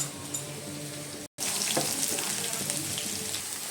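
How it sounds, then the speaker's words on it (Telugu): Chopped onions and green chillies fry in hot oil with mustard seeds, cumin and dal for a carrot coconut fry. A loud, steady sizzle fills the clip and drops out briefly once, with no talking. "కొంచెం సాయిపప్పు, ఆవాలు, జీలకర్ర ఇవి వేగిన తర్వాత కట్ చేసి పెట్టుకున్న ఉల్లిపాయ పచ్చిమిరపకాయలు యాడ్ చేయాలి"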